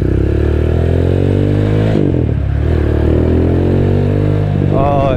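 Motorcycle engine fitted with an Orion muffler idling and revving close up on a Diablo bike, a loud, steady throb with a rev change midway and a rising whine at the end.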